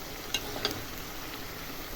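Soft, steady sizzling of onions frying in a pan, with a couple of brief clinks near the start and no talking.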